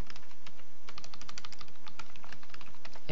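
Fingers type on a computer keyboard in a quick, uneven run of close clicking keystrokes with short pauses, heard alone with no voices.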